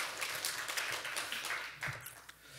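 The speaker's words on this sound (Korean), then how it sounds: "박수 크게" A church congregation claps for a newly welcomed member during a Sunday worship service, producing quiet, scattered applause that is soft and somewhat distant.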